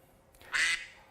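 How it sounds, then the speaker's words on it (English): A phone plays a duck quack alarm, one short nasal quack, clear and close in an otherwise quiet room. "the old duck in the phone, as it were, tells us that we're at the end of this"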